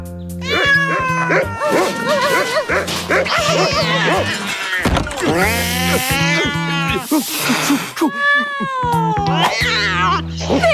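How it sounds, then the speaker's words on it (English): A cartoon kitten mews and yowls in a long run of rising and falling cries over busy music and other animal noises, loud and continuous throughout. "Did that nasty kitty scare you?"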